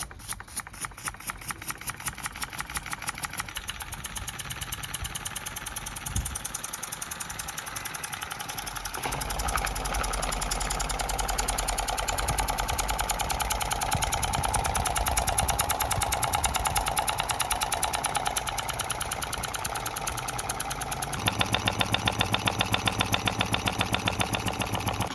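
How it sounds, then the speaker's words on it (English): A small piston valve air engine, refitted with rubber at the crank, runs at speed as a steady, fast, loud mechanical clatter that rises in pitch and intensity partway through, with no voices. "After reapplying the rubber, let's see what is RPM potential of this engine."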